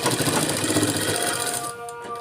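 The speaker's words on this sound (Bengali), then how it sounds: "এইটাকে আমরা ডবল ভাঁজ করে দিচ্ছি আর সেলাই আরম্ভ করছি" A sewing machine stitches double-folded fabric in a rapid, even mechanical chatter, close and steady, easing off near the end.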